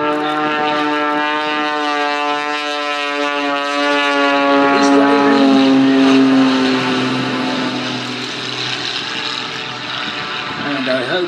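Pitts Special biplane at a Weston Park air show, its engine droning in a loud sustained tone that rises and falls as the throttle works to hold it slow, with a commentator talking over it.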